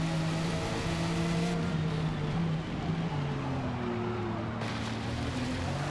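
A Jaguar XJR-15 race car on sport tires in a racing video game, its engine droning with tones that climb and drop through throttle changes and gear shifts, loud and steady, with a voice talking faintly underneath.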